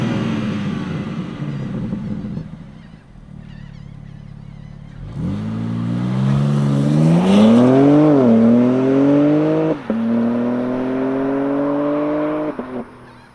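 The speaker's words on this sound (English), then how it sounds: "let's fire up this straight six and see what it sounds like." A 2024 BMW M4 Competition xDrive convertible's straight-six engine cranks and catches with a loud bark, rising revs, then settles into a steady, throaty idle with a couple of short blips, close and alone without talk.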